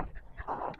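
A dog at a home with several dogs gives a brief burst of close, breathy panting with a slight whimper.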